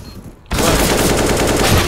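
In a first-person shooter video game, a sudden, loud, rapid burst of automatic gunfire breaks in after a brief quieter moment and continues without pause.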